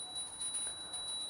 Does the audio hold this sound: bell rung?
yes